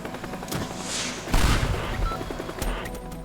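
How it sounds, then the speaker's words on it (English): In the video game Teardown, a helicopter fires rockets in loud explosive bursts: a blast near the start, a heavy boom in the middle and another sharp hit near the end, over a constant engine rumble. "it's firing its own rockets"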